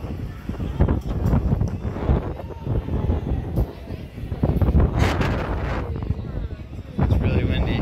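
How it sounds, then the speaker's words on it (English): Strong gusty wind buffets the microphone in loud, uneven rumbling bursts, with some talking mixed in. "It's really windy."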